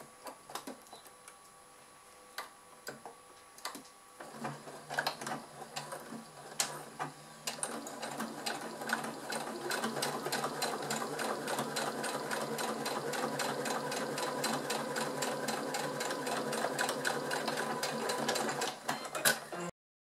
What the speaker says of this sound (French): Je retourne et je couds de l'autre côté.